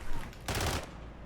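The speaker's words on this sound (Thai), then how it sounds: "เจอคนยิงเพื่อนเราละ" A short, loud burst of rapid gunfire in the video game Warzone lasts about a third of a second, then fades into quiet background noise.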